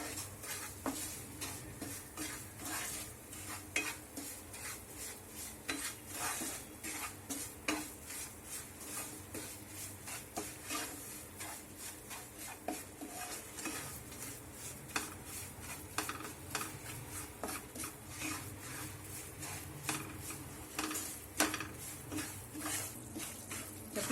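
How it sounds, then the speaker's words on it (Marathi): Fenugreek flour roasting in a pan over a low flame, with a long run of rapid, repeated spatula scrapes and clinks against the pan over a faint hiss, steady and quiet, nobody speaking. "मंद गॅसवरती आपल्याला हे मेथीचं पीठ भाजून घ्यायचंय"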